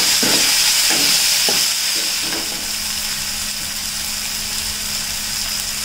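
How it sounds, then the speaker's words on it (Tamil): Chopped tomatoes sauté in a pan for Tamil pepper rasam (milagu rasam), giving a steady loud sizzle and hiss with a few stirring scrapes in the first seconds, then an even frying sound. "இது கூட சாப் பண்ணி வச்சுருக்கிற தக்காளியும் போட்டு வதக்கிக்குவோம்"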